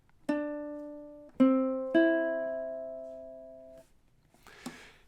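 Ukulele notes from measure 4 of the Jamaican folk song Day-O (The Banana Boat Song): three plucked notes ringing out and decaying, the last held long, followed by a faint brush of noise.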